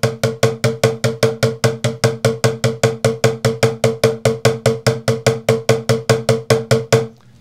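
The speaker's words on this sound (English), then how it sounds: "hit the top of the bucket with the tip of the stick" Rapid, even hits on the top of a plastic bucket with a drumstick tip, a steady roll of about thirty sharp hollow taps that stops abruptly.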